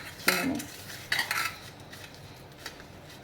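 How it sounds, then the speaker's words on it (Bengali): Bengali salad being tossed and mixed with mustard oil gives a few bright clinks and scrapes of a utensil against a bowl, spaced apart, with quiet gaps in between. "এতে আমি সর্ষের তেল দিয়ে দেব, দিয়ে আরও ভালো করে আবার মাখিয়ে নেব।"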